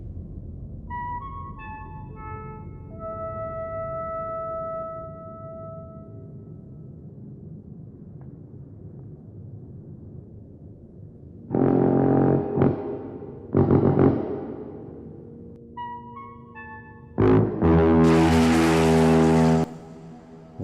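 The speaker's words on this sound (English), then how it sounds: "play the 5 tones" Five-tone musical signal from the film Close Encounters of the Third Kind: a short sequence of clear synthesized tones, followed by loud, deep brassy blasts answering in bursts, with quieter rumbling in between.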